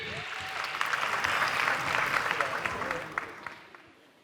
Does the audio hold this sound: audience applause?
yes